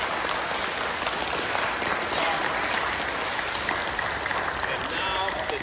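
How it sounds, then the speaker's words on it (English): A third grade class applauds at a school Monster Day event, a steady wash of clapping from many small hands that keeps going throughout, with children's voices chattering underneath. "Can you give a round of applause to my monsters for joining us?"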